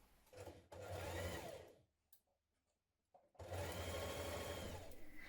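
A sewing machine runs a seam on a summer dress in two loud steady bursts, with a quiet pause of about a second and a half between them and no talking.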